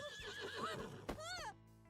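Horse neighing from The Sims 4 Horse Ranch trailer: a short, loud whinny rising and falling over a busy backdrop of music and ambient game sound.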